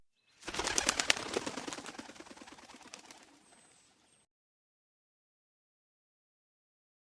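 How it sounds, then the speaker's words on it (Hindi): A flock of small birds bursts into flight from a net, wings flapping in a dense rapid flurry with a few chirps, loud and close, then fading out over a few seconds into silence. "सभी चिड़िया आजाद हो गई और वहां से उड़ गई"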